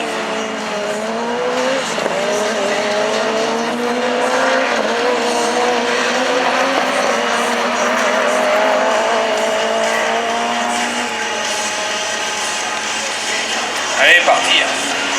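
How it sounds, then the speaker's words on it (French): Citroën Saxo Kit-Car rallycross race cars in a French championship round at Châteauroux roar past with wavering engine notes. Tyres squeal near the end while a commentator talks over the engines. "Saxo Kit-Car reste toujours une Saxo Kit-Car. Bien mené, c'est performant."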